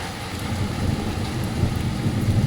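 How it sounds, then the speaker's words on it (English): A very active thunderstorm with hail and rain over Anstey: a dense, steady wash of heavy rain with low rumbling beneath, continuous and close, with no voices. "Still a little bit of lightning every now and again, but just constant thunder."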